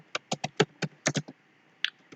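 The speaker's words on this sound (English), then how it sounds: "Now I'm gonna type the description." Keystrokes on a computer keyboard while a greeting card description is entered, about a dozen crisp clicks in uneven bursts, close and fairly quiet, ending with one isolated tap after a short pause.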